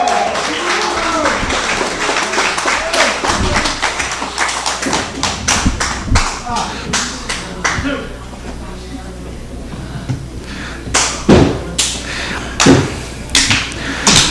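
At a heavyweight championship wrestling tournament, the crowd gets behind Sammy Miami with sharp, loud claps that build into rhythmic bursts toward the end. An excited commentator talks over the first part.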